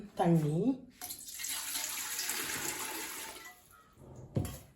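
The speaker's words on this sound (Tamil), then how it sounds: "முதல்ல நாங்கள் தண்ணி விடுவோம்." Water pours steadily into a clay pot for cooking Aadi koozh, a few seconds of rushing splash after a brief voice, ending with a light clunk.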